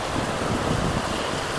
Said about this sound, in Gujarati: ટાઢો બોળ પવન છે